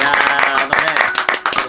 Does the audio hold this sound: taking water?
no